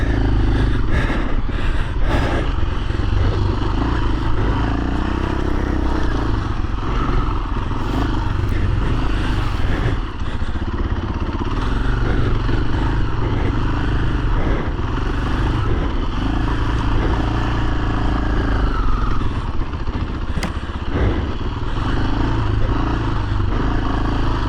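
An off-highway vehicle engine lugs slowly along a dirt trail at Pinnacles OHV area, a steady loud low drone with occasional clatter and small throttle changes throughout, no voices heard.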